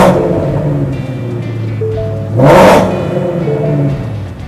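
A car engine revs up sharply to a loud peak mid-clip, then settles back to a steady rumbling idle, heard alone without talk.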